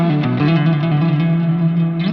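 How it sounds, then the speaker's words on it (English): Electric guitar running through a Fractal preset in a live style, with a sustained chord ringing out under delay and reverb, sounding close and fairly loud with a smooth, echoing tail and no talking. "Kind of got the pedal in the middle for a little bit of delay and reverb."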